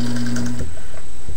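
Singer 99 sewing machine whirring briefly under pedal control, a steady close mechanical hum for about half a second before it stops, with a faint knock near the end.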